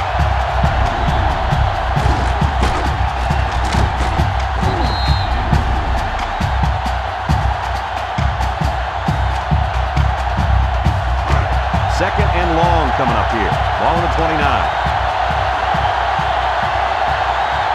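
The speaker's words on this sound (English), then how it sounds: "So this crowd is making their presence felt." A stadium crowd in the NCAA Football 2005 video game cheers with a continuous, loud roar during a UCLA Bruins versus USC Trojans rivalry game, while play-by-play commentary talks over it.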